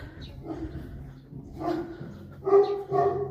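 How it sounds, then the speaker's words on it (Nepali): A Bhote dog at the main gate of the royal palace in Lo Manthang barks in a few loud, close bursts near the end, after a quieter stretch of low rumbling. "डेन्जर भोटे कुकुर रहेछ"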